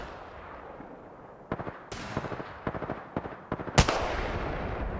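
Gunfire in the battle royale shooter Apex Legends: rapid bursts of automatic shots and single heavy cracks, close and loud, over a steady noisy background with no voices.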